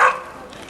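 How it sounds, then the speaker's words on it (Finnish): A single short bark from a reindeer herding dog, close and sharp, fading quickly into faint outdoor background. "Hän haukkuu sit kun on tarvitse."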